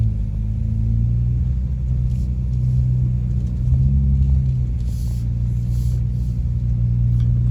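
A 4WD crawls slowly over rocks and a wombat hole on a South Australian coastal track, its engine giving a steady, close, low rumble that holds throughout with slight swells and no talk.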